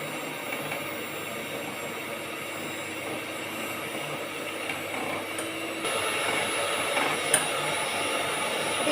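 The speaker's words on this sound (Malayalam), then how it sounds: "ഇതിപ്പം ഞാൻ ഹൈയിലിട്ടാണ് ബീറ്റ് ചെയ്തത്" Electric mixer beating whipping cream on high speed, a steady faint whirring drone that grows slightly louder partway through and runs continuously throughout, with no talking.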